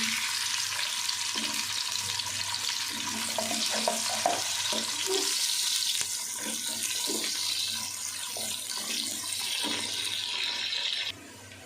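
Two medium onions frying in about two spoonfuls of ghee for mutton curry, a steady broadband sizzle with intermittent clatter and stirring, close and fairly loud throughout, with no talking.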